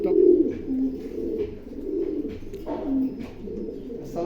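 A racing pigeon coos in low, rolling murmurs that repeat steadily up close, with no talking.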